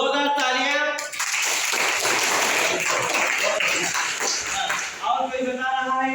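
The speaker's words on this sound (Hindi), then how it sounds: "जोरदार तालियां" A class of students in a Hindi lesson breaks into applause, a burst of clapping between stretches of the teacher's voice, fairly close and busy for several seconds.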